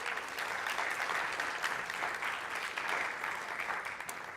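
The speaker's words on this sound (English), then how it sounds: "please let's congratulate her by a round of applause" Audience applause at a 2022 diversity recognition event, a steady, full round of clapping from a room of people, even in level and continuing throughout without speech.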